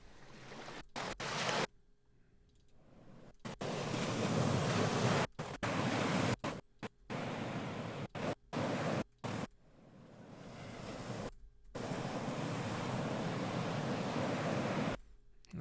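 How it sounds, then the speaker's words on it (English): Steady rush of ocean surf washing in broad, noisy swells, broken by a few abrupt silent gaps and cuts. "So obviously we need an ocean sound effect here."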